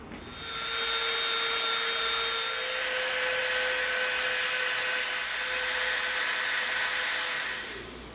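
A high-speed power tool bevels the edge of EVA foam for a District 9 blaster prop, giving a steady, loud whining drone with a sustained pitched tone that spins up, holds for about seven seconds and winds down.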